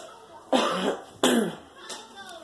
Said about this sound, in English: I'm so sorry if I was coughing at y'all